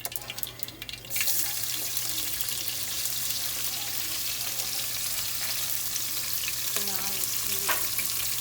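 Onions for kitchari hit hot oil in a pan, starting with a sharp burst, then a loud, continuous sizzle that holds steady, with a couple of faint utensil clinks near the end.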